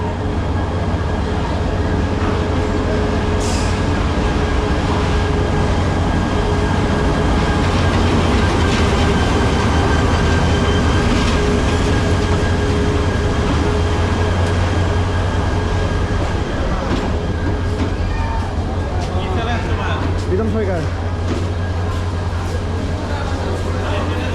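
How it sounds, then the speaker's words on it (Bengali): The Dolanchapa Express pulls into a railway station in Bangladesh with a loud, steady rumble that fills the whole stretch, joined by faint metallic squeals and occasional knocks from the cars. "ট্রেন দশটায় ছাপ্পান্ন মিনিটে আসলো এই আমাদের দুলনচাপা এক্সপ্রেস"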